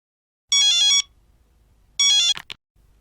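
A telephone rings in two short electronic bursts separated by a pause, the second cut off by a click as the call is picked up, loud and close with no talk.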